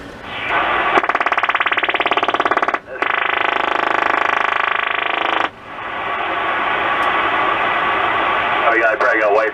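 Russian radar interference on CB radio near 27.540 USB, loud buzzing pulsed bursts with abrupt stops and starts, rasping and creaky, before giving way to hiss with a voice coming in at the end.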